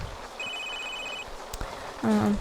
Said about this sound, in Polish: Ktoś do nas dzwoni, to może odbierz telefon.